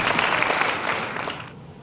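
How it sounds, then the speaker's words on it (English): A university speech contest audience claps for a freshman speaker, a short burst of many hands that stays full for about a second and then thins out and fades away. "Give him a round of applause"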